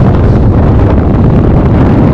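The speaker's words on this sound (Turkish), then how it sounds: "inanılmaz bir rüzgar var" Strong, constant storm wind on Kösedağ mountain in Ağrı, Turkey roars and buffets the microphone, a dense rushing noise with no pauses.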